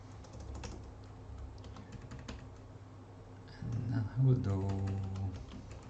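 Keys clatter on a computer keyboard as code is typed, quick uneven taps in bursts, with someone talking over the tapping for much of the time.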